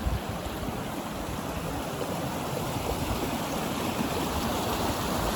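River water rushes steadily past at close range, a continuous broadband gurgling roar that stays even throughout with no voices.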